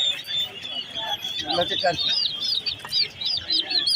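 Turkeys and chickens at the Tongi Bazar poultry market give a string of high, repeated chirping calls over a busy background, while people talk nearby.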